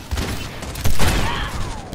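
Gunfire in the video game Overwatch: a rapid burst of shots with thumping impacts, loudest near the middle and continuing as a steady clatter to the end.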